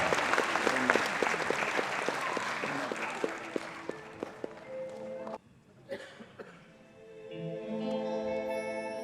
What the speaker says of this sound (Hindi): एक बार जोरदार तालियों से स्वागत कीजिए